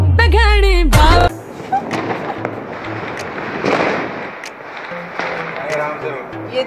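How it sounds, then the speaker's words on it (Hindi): A Diwali firecracker goes off after a short burst of music, followed by a string of sharp crackling pops and scattered bangs of varying loudness, with voices faintly in the background. "ये देखिए हमारा नया पटाखा।"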